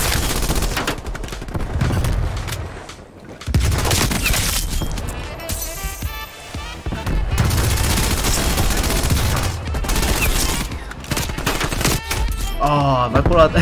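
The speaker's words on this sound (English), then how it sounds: "We can actually use this PPSH, so let's see how it actually goes out." A PPSh submachine gun fired in a first-person shooter game, loud rapid bursts of automatic fire in several long strings separated by brief pauses, up close and dominating the mix.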